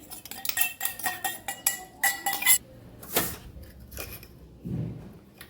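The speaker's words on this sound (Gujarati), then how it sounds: "મિક્સર જારમાંથી જે આપણે મકાઈ પીસેલી એ ચોટેલી છે એ લઈ લેશું" A spoon scrapes ground corn paste from a steel mixer jar: a quick run of sharp metallic taps and scrapes, then a single longer scrape and a few softer knocks.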